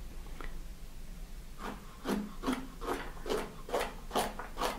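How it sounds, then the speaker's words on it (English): A chef's knife chops a carrot on a cutting board with a downward rocking motion, giving about eight to nine crisp, evenly spaced knocks after a quiet start, close and fairly soft, with no talking. "Place the tip of the knife on the board and chop downward with a rocking motion."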